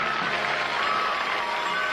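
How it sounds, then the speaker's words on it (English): Cartoon studio-audience applause for a water-ski finish, a steady, even roar of clapping sustained throughout with no voices. "let's hear your applause vote"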